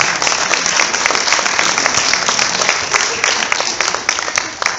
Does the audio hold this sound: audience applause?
yes